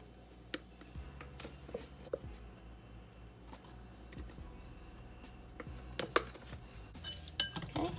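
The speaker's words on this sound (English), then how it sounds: "You want to go ahead and mix in your cornstarch." Cornstarch being mixed into homemade sweet and sour sauce for meatballs: a spoon clinks and scrapes against a bowl in scattered soft taps, with a few sharper clinks near the end and no talking.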